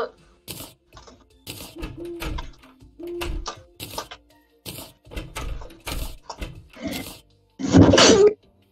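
A person sneezes once, loud and close, right after a stretch of German chatter between players of Terraria. Clicky keyboard-like taps are scattered among the voices.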